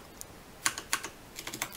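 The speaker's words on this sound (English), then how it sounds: "what I want you to do is type in the address bar over here" Typing on a computer keyboard into a web browser's address bar: a handful of crisp, separate key clicks, one near the start and then a sparse run of taps later on, close and fairly quiet with no talking.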